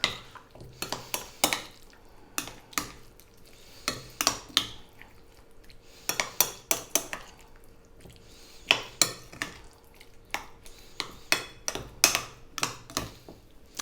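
Yogurt marinade with food colouring is stirred briskly in a bowl, making quick repeated clinks and taps of a utensil on the rim and sides, close and crisp, with no talking.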